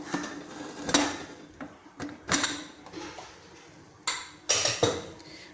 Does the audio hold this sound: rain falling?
no